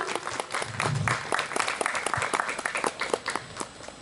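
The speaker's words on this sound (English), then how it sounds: "Give a round of applause everyone." An audience at a Republic Day celebration applauds after a bouquet is presented to a guest, giving crisp, close claps that swell at first and then gradually thin out and taper.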